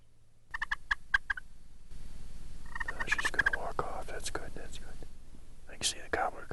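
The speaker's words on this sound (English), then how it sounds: "can see the gobbler coming way out there" Wild turkey gobbler gobbling at a distance in the woods, repeated rattling bursts mixed with hen-like calls and rustling, fairly faint outdoors with a whispering voice nearby.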